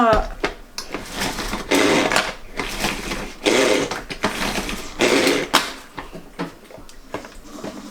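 A pull-cord manual food chopper whirs in repeated short bursts as the cord is yanked, a rattling plastic spin roughly once a second, close, with someone speaking between and over the pulls.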